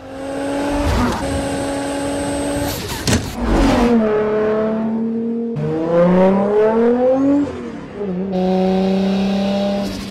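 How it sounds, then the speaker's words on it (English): A single turbo Toyota Supra in Forza Horizon 4 revs hard, its engine note climbing and dropping through several gear changes with sharp breaks between pulls, loud and close. "Everyone prefers the sound of the single turbo Supra"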